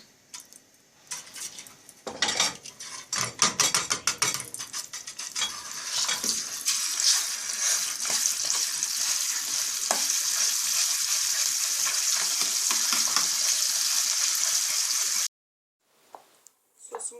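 Tomato paste sizzles and spits in hot oil as a sauce is made, a steady bright crackle with clattering stirring early on, cutting out abruptly near the end.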